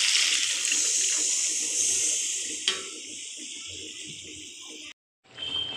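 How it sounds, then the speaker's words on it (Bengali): Water poured into a pan of curry that has been cooking in oil, a steady bright hiss and splash that weakens midway and then stops abruptly before a brief resumption. "এখন জল দিয়ে দিচ্ছি।"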